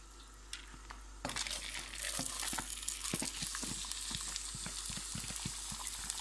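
Bulgur poured into hot oil with golden toasted vermicelli for a Mosul-style chicken bulgur dish, giving a steady close sizzle and crackle with grainy rustling bursts as the grains hit the pan.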